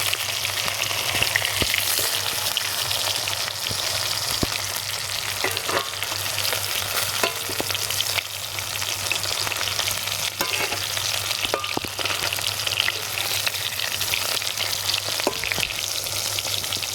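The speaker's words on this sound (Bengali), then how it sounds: "মাছগুলোকে ভেজে নেব।" Pieces of rohu fish fry in hot oil in a wok, giving a steady, loud sizzling hiss with occasional crackles and pops throughout.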